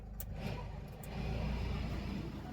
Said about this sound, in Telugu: ఏసీ ఆన్ చేస్తేనే ఆటోమేటిక్గా ఇంజన్ ఎత్తుకుంటుంది